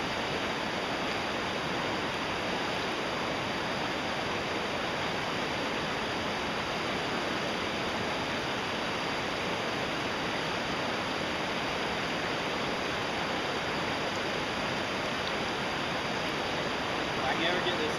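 A pressurized water jet spraying steadily from a gold-prospecting hand dredge, a loud continuous broadband hiss and rush that holds unbroken throughout.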